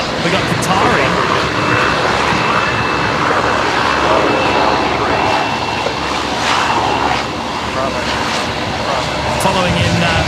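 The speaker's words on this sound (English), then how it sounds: "Following in the Air Callan 330 Neo there into the international terminal." An Aircalin Airbus A330neo jet taxis toward the international terminal at Brisbane Airport, its steady engine roar and whine held at moderate distance over outdoor ambience, with a voice talking over it.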